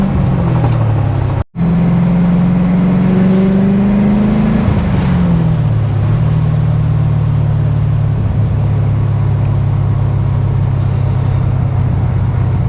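A C4 Corvette with an LT1 engine driving at road speed, its steady low engine drone rising briefly as it accelerates, with a short dropout, then settling into an even cruising hum alongside wind and road noise.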